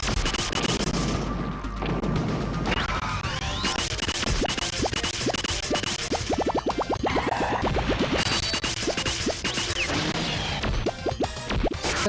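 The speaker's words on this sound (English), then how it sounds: "So many explosions all at once." Dense, continuous barrage of video game explosions, crashes and rapid gunfire-like bursts, loud and chaotic throughout without pause.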